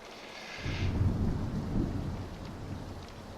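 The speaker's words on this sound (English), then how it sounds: "It's a rain map." A rolling thunderclap swells and fades over steady rain falling on surfaces, heard on a rain map in the game Absolver, with no talking.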